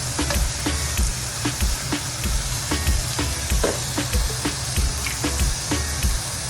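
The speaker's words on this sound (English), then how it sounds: "I'm gonna just start frying my chicken." Loud, continuous sizzling of chicken frying in hot oil in a crowded pan, with crackling pops scattered throughout and no voices.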